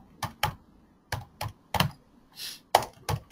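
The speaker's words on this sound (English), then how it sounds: "Just going to type in those passwords there" Keys on a computer keyboard are struck in short, irregular clicks while entering passwords, about eight separate taps with pauses between, close and fairly quiet in an otherwise silent room.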